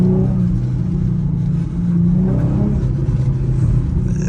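An Infiniti G37 with a muffler delete rumbles and revs through its exhaust, a loud, deep, throaty drone that swells briefly, recorded close with no talk.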